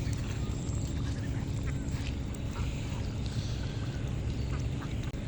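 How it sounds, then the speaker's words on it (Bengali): A flock of domestic ducks gathered by a riverbank quacks repeatedly at close range, their calls overlapping above a constant background rush. "আমাদের হাঁস হয়েছে 24টা"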